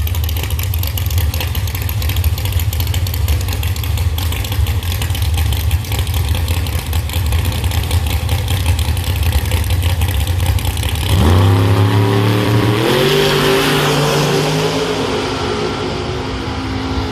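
Drag racing car engines at Beech Bend Raceway, outlaw class, a loud sustained engine drone that swells into a revving climb near the end, close and with no talk.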